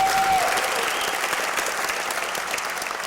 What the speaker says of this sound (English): And one more giant round of applause for Ezra.